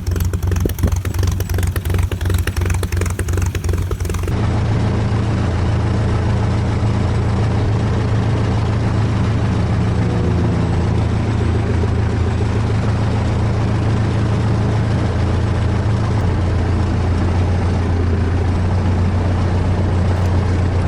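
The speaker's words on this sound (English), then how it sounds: "I just love the sound of that Gypsy 1C engine." A de Havilland Gipsy 1C piston engine on a DH-87B Hornet Moth runs loud and steady up close, a continuous droning hum with no talking.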